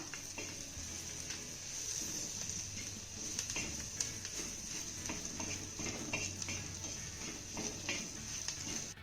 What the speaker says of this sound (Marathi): बेसन पीठ आपल्याला एक मिनिटभर चांगलं भाजून घ्यायचं आहे